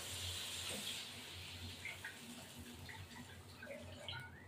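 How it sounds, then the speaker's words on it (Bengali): Water pours into a pot of katla fish curry on the stove, a soft, continuous gushing and splashing that is quiet and steady throughout. "এবার আমি জলটা দিয়ে দেবো"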